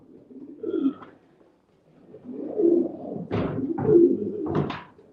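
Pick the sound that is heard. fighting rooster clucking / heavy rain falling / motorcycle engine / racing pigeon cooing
racing pigeon cooing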